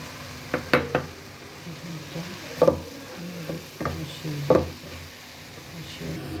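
A spatula stirring egg with cabbage in a frying pan, sharp scraping clacks every second or two over a faint sizzle, with some quiet speech in the background.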